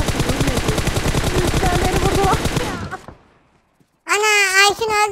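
Rapid automatic gunfire in the PUBG Mobile battle royale game, a dense rattling burst for about three seconds that cuts off to near silence, followed by a child-like voice talking loudly.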